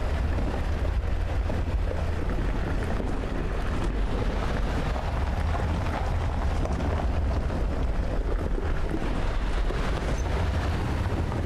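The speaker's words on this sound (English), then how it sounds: "The sound going across gravels sounds really good." A truck rolling over gravel in the Euro Truck Simulator 2 video game, a dense continuous rumble and crunch with a low engine drone, steady and loud throughout.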